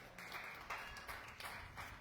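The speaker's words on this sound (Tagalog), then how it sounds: "Palakpak sa ating Panginoon." A church congregation applauds in a soft, fairly distant patter of clapping that comes in a few uneven waves, with no speech over it.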